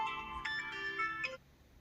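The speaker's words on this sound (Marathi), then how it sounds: "फोन बी कोणाचा आलाय गे बाबा" A mobile phone plays a melodic electronic ringtone for just over a second at moderate volume before stopping abruptly.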